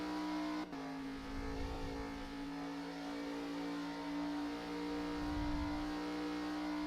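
A V8 ute race car on the Yas Marina circuit holds a steady, fairly quiet engine drone at high revs, with a brief dip as it shifts up, running flat out toward sixth gear.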